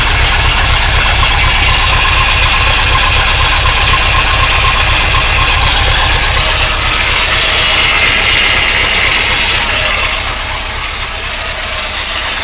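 A 1953 Oldsmobile Rocket Super 88 barn-find engine idles steadily up close, a loud, even mechanical chug with a ticking, ratchet-like rhythm throughout, easing slightly toward the end.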